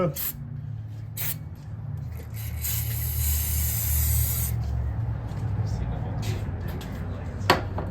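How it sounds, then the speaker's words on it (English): A steady, loud hiss of an aerosol cleaner sprayed on the frame rail of a 1993 Softail motorcycle runs nearly the whole time, with a few short clicks and knocks nearby. "just spraying down there on the frame rail and in my face"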